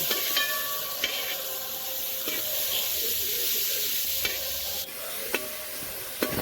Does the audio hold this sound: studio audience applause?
no